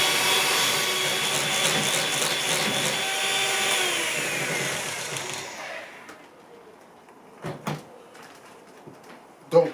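An electric mixer whirs steadily through eggs for madeleine batter for about five seconds, then stops, followed by a few scattered clicks and knocks in a quiet kitchen.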